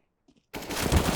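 A rapid burst of loud automatic gunfire in the shooter game CS:GO erupts after a brief quiet pause and runs continuously to the end.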